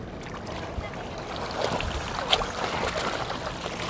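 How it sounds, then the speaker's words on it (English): A small two-stroke boat outboard motor with engine problems, idled high at a boat ramp, giving a steady buzzing drone with slight surges over water and wind noise, moderately close. "he's having engine problems and he has to have it idled high"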